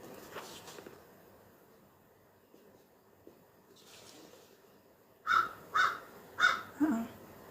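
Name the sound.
bird right outside the door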